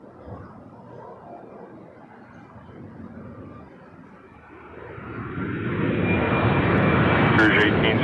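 An Air Canada Airbus A321-200 airliner at Toronto Pearson builds from a distant low rumble into a loud, close engine roar with rising whine as it passes, while a voice talks over it.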